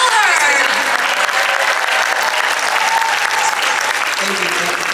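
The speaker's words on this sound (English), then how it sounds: "Keep that applause going" Loud, dense applause from a Star Trek convention audience greeting actors on stage, a sustained roar of many hands with crowd noise and a few cheers mixed in, constant and close throughout.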